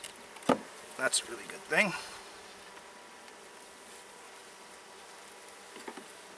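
Honey bees buzz around an open beehive being inspected, a soft continuous hum under a few brief spoken words and some handling knocks near the start.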